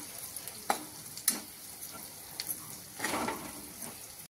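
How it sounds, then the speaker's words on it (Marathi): Moong dal sheera roasts in ghee with a faint, soft sizzle, broken by a few gentle scrapes and clinks of a spoon stirring the pan. "असं आपण तूप टाकून घेऊ आणि छान भाजून घेऊ"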